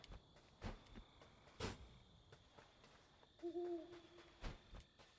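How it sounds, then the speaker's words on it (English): Owl hooting in the video game Death's Door, a short soft two-note hoot heard once, faint amid quiet ambience with scattered thumps and clicks. "I can hear the owl from here"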